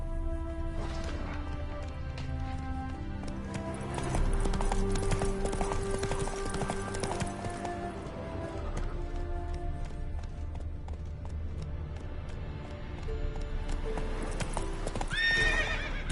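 Hooves of a galloping horse in The Witcher 3: Wild Hunt drum in a fast, steady rhythm over layered game music, with a whinny near the end.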